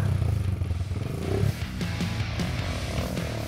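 A trail motorcycle climbs the rough slopes of Bromo in East Java. Its engine drones loud and steady throughout, with clattering and scraping mixed into the close, continuous roar.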